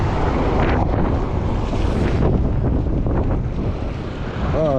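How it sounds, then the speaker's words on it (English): Strong, steady wind roars and buffets the microphone while riding a 20-inch folding fat tire e-bike outdoors, a loud continuous rush throughout with a brief lull near the end. "Oh, that wind is wicked."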